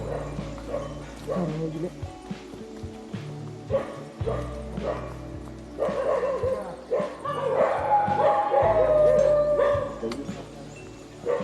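Several dogs bark and yip at a distance in an Idukki forest near a cardamom estate during a jeep safari, with irregular bursts and whimpers mixed with people talking nearby.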